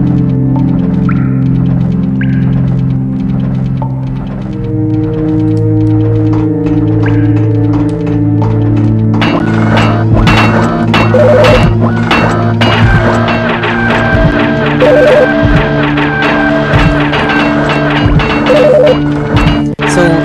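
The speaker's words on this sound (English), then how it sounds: "That noise is actually used in the game Turok for one of the weapons." Layered electronic tones with steady droning hum, then busier sci-fi effects with sharp metallic hits and pulsing bursts, a weapon sound from the game Turok, loud and continuous without talk.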